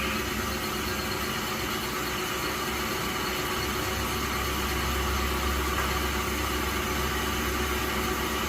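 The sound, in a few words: compressed air from an air compressor blowing on the tool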